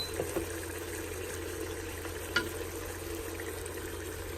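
Chicken for haleem stirred in a hot pan, a low steady sizzle with a few soft scrapes and clinks of the spoon, close and quiet, no talking.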